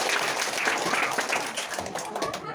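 At a Teachers' Day event, children clap in welcome for a teacher, a lively patter of many small hands close by that thins slightly toward the end.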